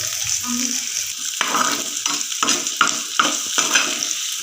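Onions sautéing in a pan for ulli chammanthi, a close sizzle with a spatula scraping and stirring in regular strokes after a quieter opening moment.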